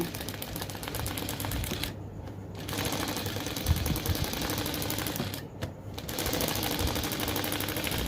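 A sewing machine stitches a petticoat, its needle chattering in a fast, even, close-up rhythm that halts briefly twice before running on.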